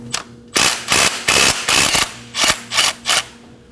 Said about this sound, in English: Using a 12mm socket and a long stanchion,